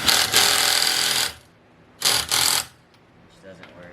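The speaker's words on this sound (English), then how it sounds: "I'm just using my compact drill, impact drill," Two loud bursts of a compact impact drill whirring close by, loosening fasteners on a W204 Mercedes C300, separated by a short pause, with faint rattling afterward.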